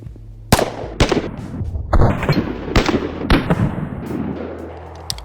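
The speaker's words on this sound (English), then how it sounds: "We're gonna go ahead and take some shots at some steel," A Springfield Echelon pistol fires at steel targets about 20 yards away outdoors: six sharp, loud shots spaced irregularly, each with a short reverberant tail.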